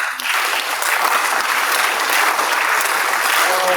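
An audience at a school spring concert and senior recognition applauds honorees who are still standing, a dense, steady wash of many hands clapping that stays loud throughout rather than settling into a slow rhythmic beat.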